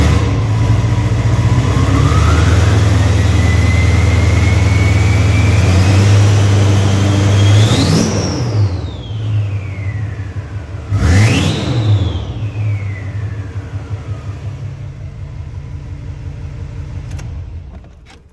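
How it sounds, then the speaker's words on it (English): A 2005 Duramax diesel pickup with a failing passenger-side head gasket, its engine revved hard from a low rumbling idle into a rising roar, then two sharp throttle blips that fall away, loud and close before settling back to idle. "I'll get a little exhaust clip of it real quick."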